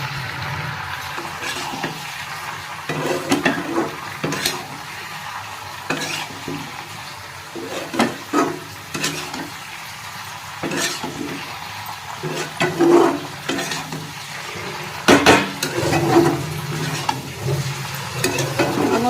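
A spoon stirs food frying in a pan while it cooks, with scraping strokes at irregular intervals over a steady soft sizzle. The sound is close, and nobody talks.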